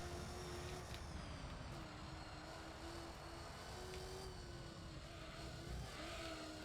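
A race car in Gran Turismo 3 drives a license test, its engine a steady, loud drone that rises and dips in pitch through braking and acceleration, with brief tire or brake noises.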